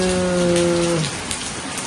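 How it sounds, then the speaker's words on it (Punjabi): Steady rain falls outside during a sunshower, a dense, even patter close by with no voices, and a faint tonal hum fades out after the first second. "ਉਹ ਤੇ ਬਾਰਿਸ਼ ਹੋਣ ਲੱਗੀ ਆ ਤੇ ਵਕਤ ਬਾਰਿਸ਼ ਕਾਫੀ ਹੋ ਗਈ ਆ"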